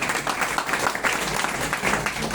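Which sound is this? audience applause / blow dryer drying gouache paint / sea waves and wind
audience applause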